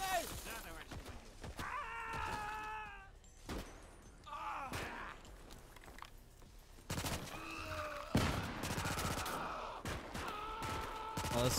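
Video game battle with bursts of gunfire and grenade blasts, sharp broadband cracks spread through the scene, mixed with tonal game effects and shouting voices.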